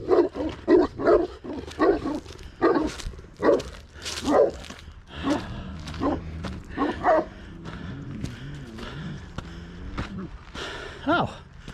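Several dogs bark repeatedly in loud, irregular bursts close by on a rural property along a highway, with a few whimpers and yips between the barks as a person talks to them.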